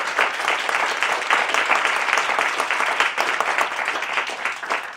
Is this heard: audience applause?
yes